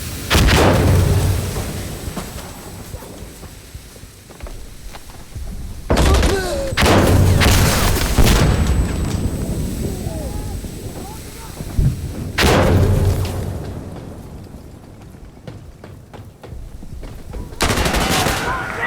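Insurgency: Sandstorm gunfire, loud bursts of automatic fire and heavy booms coming in several waves with quieter stretches between, while players shout over the shooting.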